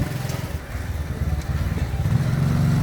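A motorbike engine runs steadily at a distance in the village of Mallah, its low throbbing rising a little toward the end.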